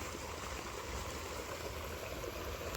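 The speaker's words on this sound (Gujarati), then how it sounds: "પાણી હાલે છે જુઓ, મસ્ત મજાનું બતાવી દઈએ તમને." Irrigation water flowing through a farm field, a steady rushing stream that runs continuously at moderate level from near by, with no voices over it.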